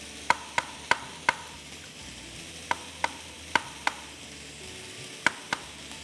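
A knife chops mushrooms into large chunks on a board in a home kitchen, landing about a dozen sharp, distinct strokes in an uneven rhythm. The strokes are close and moderately loud against a quiet background, with no voices.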